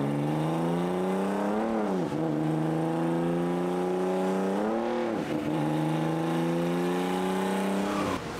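A turbocharged M52 engine in a BMW E46 with a 7-speed DCT revs hard on a dyno, pitch climbing in long sweeps then dropping sharply, repeating several times, loud and close.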